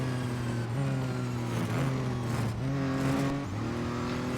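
A race car engine in the Real Racing 3 mobile game drones loudly and continuously, pitch stepping up through gear changes and dipping briefly, with faint tire noise beneath and no voices.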